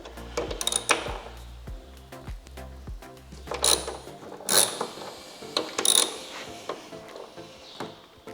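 A ratchet wrench works on a vehicle's undercarriage, giving repeated runs of close, crisp clicking. Sharp metallic knocks and clanks come between the runs, with no talk over the sound.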